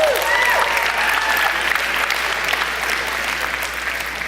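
Audience applause at the 2018 Buffys awards show, a steady, loud round of clapping from a crowd filling the whole stretch, with a few faint whoops over it.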